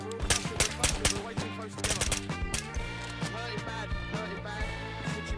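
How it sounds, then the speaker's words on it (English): Gunfire in the shooter game Ghosts of Tabor, heard as quick clustered shots near a research building, fairly faint and sharp, in bursts that fade into a steadier background, with a voice talking over it. "before I knew it we were under fire"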